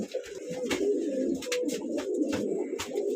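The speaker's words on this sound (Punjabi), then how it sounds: "ਆ ਕਬੂਤਰ ਲੱਗਿਆ ਬਾਈ ਗੁਰਦੇਵ ਵਾਲੇ ਕਬੂਤਰਾਂ ਚੋਂ" Low, soft pigeon cooing repeats steadily throughout, a continuous warbling murmur close by with faint higher chirps above it.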